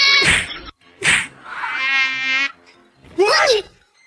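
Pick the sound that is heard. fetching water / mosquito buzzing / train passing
mosquito buzzing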